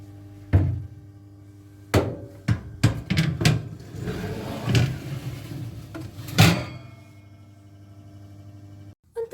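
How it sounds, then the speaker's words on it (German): A baking tray goes into an oven preheated to 250 degrees amid a series of clunks and metallic knocks, irregular bangs over a low steady hum. "Ich gebe das Blech in einen vorgeheizten Ofen auf 250 Grad,"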